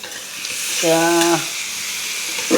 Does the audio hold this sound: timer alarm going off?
no